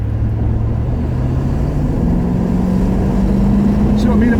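Petrol 1993 Range Rover Classic engine accelerating on a busy road, a loud low droning rumble rising steadily in pitch, heard from inside the vehicle with road noise and someone talking.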